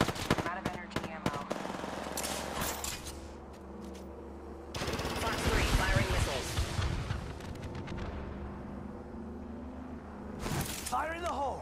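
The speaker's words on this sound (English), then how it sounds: "Opening fire." Rapid automatic gunfire and bursts of weapon shots in the battle royale game Apex Legends, loud and dense, alongside explosive impacts, with in-game voices talking over the action.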